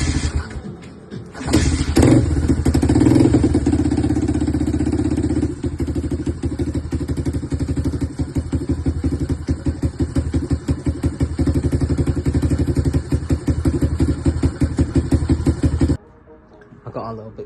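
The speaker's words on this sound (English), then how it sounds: "started it. I've been letting it just idle" A pit bike engine fitted with an upgraded carburetor idles loud and close, a rapid even putter with clattering mechanical knocks, starting with a few uneven revs before settling, then cutting off near the end.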